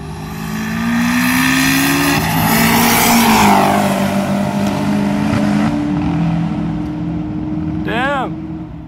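A high-horsepower Supra drag racing a Camaro at a track, loud sustained engine roar with rising revs and shifts as the cars pass close by, ending in a sharp pitch sweep.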